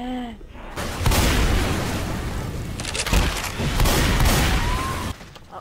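Gunfire in Left 4 Dead 2, loud sustained bursts of shots with heavy blasts filling most of the clip, a short pause near the middle, then more firing that stops abruptly.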